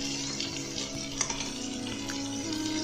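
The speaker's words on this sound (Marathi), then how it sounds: "तर तेलात मस्त असं चिकन भाजून घ्यायचं" Country chicken pieces frying in hot oil give a steady, close sizzle throughout, with a few faint utensil clicks and scrapes in the pan.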